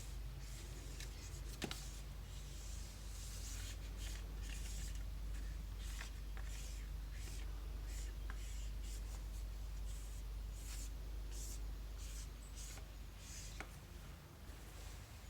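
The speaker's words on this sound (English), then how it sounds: "I'm going to draw in fairly simple." A pencil or pen scratches steadily on paper while a fish skeleton is sketched, faint continuous scribbling strokes over a low background hum, no speech.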